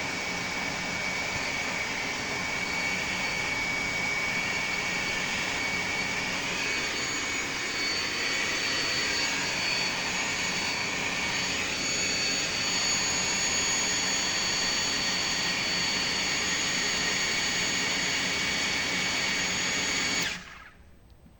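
A water pump motor fed from a borehole well runs at a steady, loud drone with a high whine, constant for about twenty seconds before it cuts off abruptly near the end.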